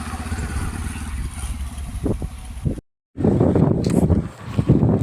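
A motorcycle engine rumbles while riding to a farm, with wind buffeting the microphone and a brief cutout midway.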